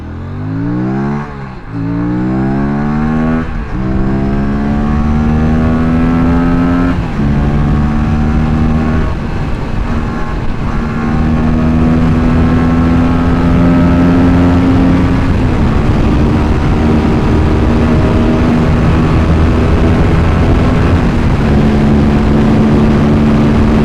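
Kawasaki-style RS457 motorcycle engine pulling hard from first gear, revs climbing sharply through repeated gear changes, each shift dropping the pitch before it rises again; loud, close and continuous with no talk.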